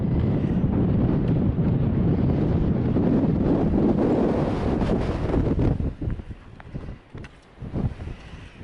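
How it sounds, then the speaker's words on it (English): Strong wind roars across an exposed stretch of the Pacific Crest Trail, buffeting the microphone loudly and steadily for several seconds, then dropping into gusty, intermittent bursts with brief lulls. "The wind is back."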